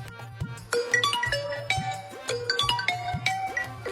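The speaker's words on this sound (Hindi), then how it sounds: "सुनो मोबाइल की घंटी फिर बज रही है।" A mobile phone ringtone plays a bright, repeating electronic melody of quick plinking notes over a steady low pulse, continuous and fairly clear.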